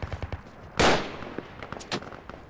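A single loud gunshot cracks out from a shooter on a building's second floor in the military game Project Reality, followed by sparse, fainter distant shots and clicks.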